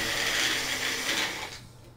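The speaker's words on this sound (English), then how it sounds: "Blend it." A blender whirs through a coconut water drink made with Thai coconut water, a steady loud grinding roar that cuts off near the end.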